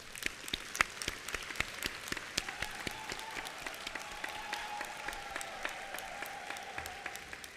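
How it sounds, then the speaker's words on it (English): Steady audience applause fills a convocation hall for award recipients, a dense continuous patter of many hands with a few sharper nearby claps and a faint sustained tone underneath, holding at an even level throughout. "Let us give them a round of applause."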